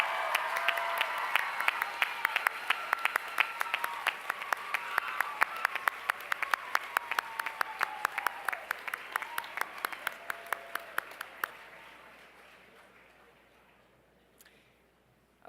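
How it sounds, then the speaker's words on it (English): Graduation commencement crowd applauding families, friends and faculty, a loud dense roar of clapping with rapid sharp individual claps that fades out toward the end, leaving near silence. "I want you to say thank you to your families and friends and your faculty with some enthusiastic applause"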